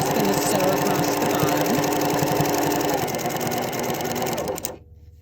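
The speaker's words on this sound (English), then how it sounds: "So I'm just going to sew across the" A sewing machine running regular all-purpose thread at stitch length 3 stitches across the bottom of a knit drawstring gift bag, a steady close rapid whirring hum that stops abruptly near the end.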